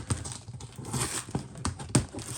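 Packing tape is ripped and peeled off a cardboard box holding a light fixture, giving close, scratchy tearing with a few crinkly bursts.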